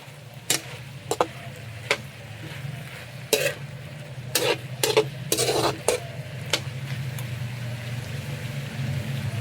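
Spoon stirring pork kaldereta in a pan after pepper and seasoning go in, giving a run of sharp scraping clinks and taps over a steady low simmering sizzle, close and fairly quiet.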